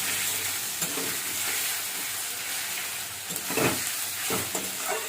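Chopped tomato sautéing in a hot pan, a steady sizzle and fry hiss running throughout with occasional louder stirring scrapes and clatters near the end, no talking.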